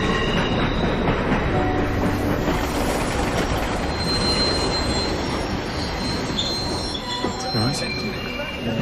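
A train runs on rails close by, a steady loud rumble with wheel squeal and some clickety-clack running throughout, with faint voices in the background.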